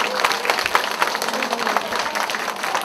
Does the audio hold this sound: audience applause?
yes